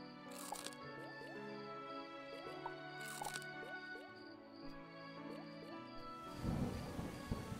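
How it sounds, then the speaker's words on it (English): Thunder rumbles and cracks at the end of a stretch of dripping, squishy game ambience in Starbound, the rolling boom building loudly in the final seconds. "the thunder sound that they use is very pleasant"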